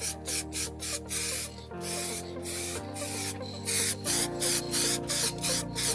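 Short repeated hisses of a spray gun laying a misty coat of paint onto the hood of a Mercedes W124, close and loud, in quick regular bursts over a steady tonal hum.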